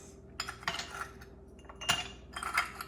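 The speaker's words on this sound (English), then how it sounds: "So let me add some ice." Ice dropped into a cup while making mango lassi, a few separate clinking clatters, close and fairly quiet, in short bursts with pauses between them.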